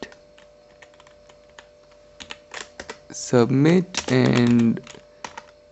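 Code is typed on a computer keyboard in a series of quick, crisp key clicks, some in bursts and some alone, close and fairly faint, with someone speaking briefly in the middle.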